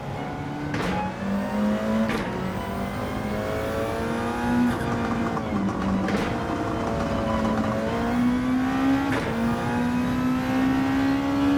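A race car in Gran Turismo 7 during an endurance race, its engine droning steadily and loud, rising in pitch through each gear and dropping sharply at several shifts, with no talking.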